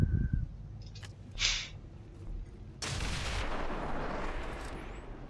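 Gunfire in the XCOM 2 War of the Chosen video game: a few quick sharp shots near the start, then a sustained loud burst of firing and rumbling explosion noise that fills the last half.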